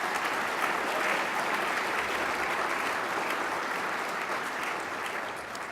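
An audience at a university gala applauds, steady dense clapping from a large crowd in a hall, even and sustained throughout, fading slightly toward the end.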